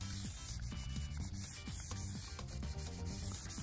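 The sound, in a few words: hand sanding a windfoil with 600 grit sandpaper on block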